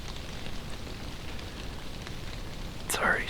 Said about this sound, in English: It's rained pretty much the whole hunt to some extent.